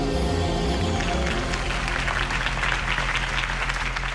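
Video-game crowd applauding after Harvey Dent's campaign speech in Batman: The Telltale Series, swelling clapping and cheering over a sustained low musical score that fades under the rising applause.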